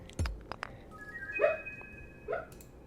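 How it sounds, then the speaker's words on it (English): Faint muffled woofs and soft whimpery yips from a dog barking in her sleep while dreaming, a few brief sounds spread out against a quiet room. "My dog is dreaming nearby, and I can hear her barking in her sleep."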